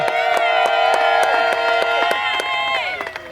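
Wedding guests cheer and clap at a civil ceremony in Ngaliema, sharp claps tapping out a rhythm under loud sustained ululating cries and voices that swell and then trail off.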